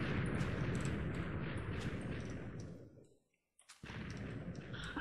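Blocks of TNT detonating in the Minecraft video game, a dense roaring blast that rumbles for about three seconds, cuts to near silence, then bursts again, loud and close with no talk.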